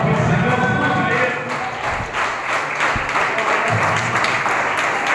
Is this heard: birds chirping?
no